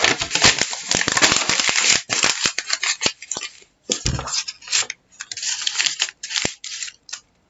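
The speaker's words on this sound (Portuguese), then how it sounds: "Vamos ver o que vai acontecer quando eu amassar um papel." A sheet of paper crumpled by hand, giving dense crackling and crinkling bursts that come in quick clusters, loud and close, with short pauses between handfuls.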